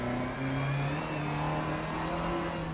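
A rear-wheel-drive Group B rally car in the Dirt Rally video game holds a loud, steady engine drone at high revs on a snowy Swedish stage, its tone sliding slightly without pause.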